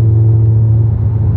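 A five-cylinder VW Golf 7 R engine, tuned by SAR Turbotechnik, holds a steady, loud, close-up drone around 3000 rpm with a deep rumble throughout.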